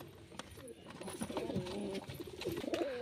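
A male Rajshahi pigeon coos close by in soft, repeated rolling phrases over a low background murmur.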